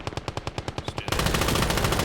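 Rapid machine gun fire in the video game Gates of Hell, a loud, evenly spaced burst of about a dozen shots that merges into a dense, continuous roar of gunfire.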